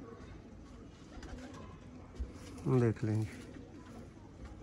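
A pigeon coos twice in close succession, low rolling calls heard near and fairly clear over a steady background hum, with a brief voice nearby.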